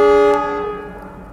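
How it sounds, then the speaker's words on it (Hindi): A twin ALCO diesel locomotive hauling a Rewari–Fazilka passenger train sounds its horn as it departs, a loud, steady harmonic blast that tapers off after about half a second into a fading, lower drone. "चलिए देखते हैं ट्रेन का यहाँ से हमारा डिपार्चर"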